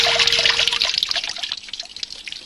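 Water poured and spilled onto a floor indoors in an animated cartoon home, a steady trickling, splashing stream that stays loud at first and then thins toward the end, with no talk over it.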